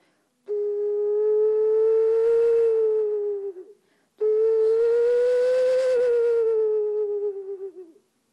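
Two long, breathy whistling notes from a small sasernai wind flute imitating bird song, each held for several seconds with a slight wavering pitch and a short pause between.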